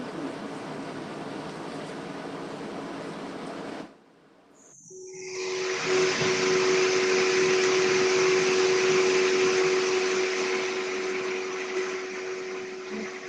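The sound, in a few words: vacuum cleaner running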